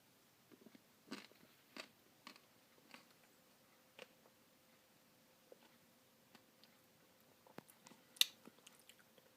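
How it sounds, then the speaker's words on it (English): Crunchy bites and chewing of a Dairy Queen Candy Cane Chill Blizzard, close up: a string of sharp, separate crunches at an irregular pace over quiet background, with no talking. "You might hear some loud crunching noises."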